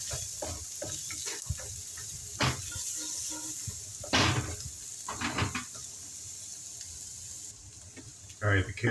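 Carrots frying in a pan for a celery chicken stir fry, with a steady close sizzle broken by repeated scraping stirs and clattering utensil hits, with faint talk in the background.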